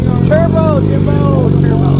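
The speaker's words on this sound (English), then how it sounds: "Let me hear it. Is that a turbo?" A turbocharged motorcycle engine at a Supercar Saturday motorsports meetup at Hard Rock runs with a steady, close, droning note, while people talk over it throughout.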